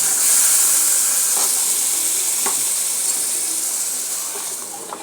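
A spice mixture is poured into a hot pot of khichuri and sizzles loudly, with steady frying hiss and bubbling that slowly fade toward the end, with no talking.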